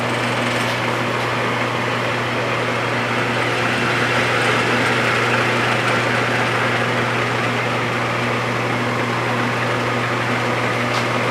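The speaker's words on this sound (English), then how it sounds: "It's a variable speed spindle." A Lagun FTV-1S vertical milling machine runs its variable speed spindle, a loud steady motor hum with a constant tonal drone and no pauses.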